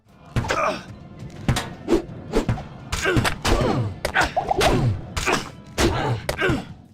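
Diablo II action RPG gameplay brings a rapid run of combat thuds, whacks and impact hits with bits of voice and effects, dense and punchy throughout.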